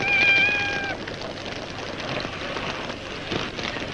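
A cat meows once at the start, a short clear cry over steady rain pattering on a surface, then only the rain continues.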